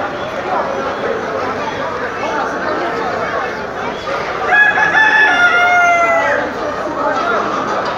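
Roosters crow amid the busy hubbub of a bird and animal market in Mecca, where chickens, ducks, pigeons and partridges are sold; clucking and crowd chatter run underneath, with a loud crow rising near the middle.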